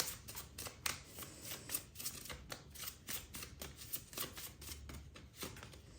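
Oracle cards are shuffled by hand in a steady run of quick, papery riffles and slaps. The sound is close and fairly soft, with no talking.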